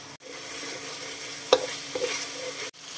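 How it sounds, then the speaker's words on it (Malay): Blended chili paste sizzles steadily in hot oil, a continuous frying hiss with a couple of soft clinks from a utensil stirring the pan. "Panaskan minyak. Tumis bahan blend."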